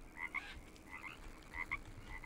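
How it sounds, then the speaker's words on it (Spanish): Frogs croak in a jungle area of the survival game Green Hell, with four short paired calls repeating at a steady pace against a soft ambient background. "aunque aquí hay ranas"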